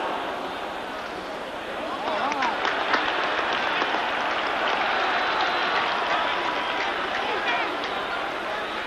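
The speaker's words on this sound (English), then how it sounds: "Well, the Cougars are applauding" Football crowd of Cougars fans at a Houston home game against Texas A&M applauding, a broad sustained wash of clapping and crowd noise that swells after a couple of seconds and stays steady.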